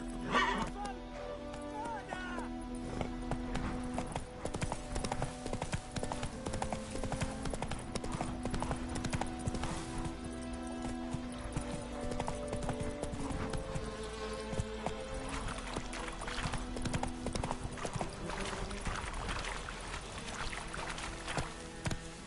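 Roach, Geralt's horse in The Witcher 3 on PS5, gallops with rapid, rhythmic hoofbeats and a whinny, set against game music and ambient sound throughout.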